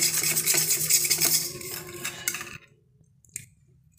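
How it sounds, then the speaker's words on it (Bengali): Food being stirred with a pinch of salt added, a steady scraping and clinking of a spoon against a bowl for about two and a half seconds, then dropping to near silence with one small knock. "সামান্য একটু নুন, সল্ট দিয়ে এটাকে নেড়ে নেব"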